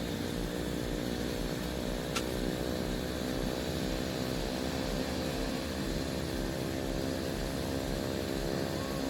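A light aircraft's propeller engine idles steadily on the ground before takeoff, a continuous loud droning hum with a constant even tone and no voices.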